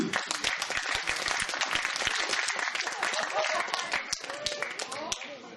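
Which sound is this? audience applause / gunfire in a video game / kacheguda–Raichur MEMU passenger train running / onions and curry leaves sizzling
audience applause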